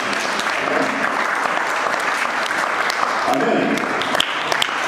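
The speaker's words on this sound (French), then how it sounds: "Est-ce que tu vas acclamer aussi?" A congregation breaks into sustained, steady applause during a sermon, the dense clapping filling the room while a voice says a short word over it.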